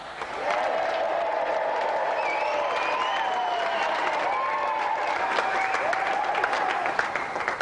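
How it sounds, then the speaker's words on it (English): A television game show studio audience applauds and cheers contestant Kelly Sumner, sustained crowd clapping with music or whistling tones running over it. "let's have another round of applause for our brilliant contestant, Kelly Sumner"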